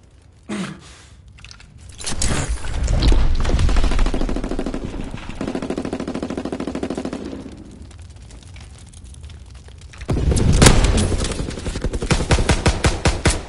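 Gunfire from a video game trick shot cracks in bursts, with loud rapid automatic fire and sharp shots. One sustained stretch fades mid-way, then heavy firing picks up again near the end.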